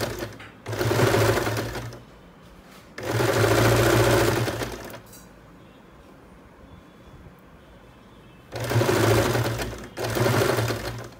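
An electric sewing machine stitching leftover cloth scraps, running in loud, fast, steady needle bursts of a few seconds each, with quiet pauses between them, close and without talking.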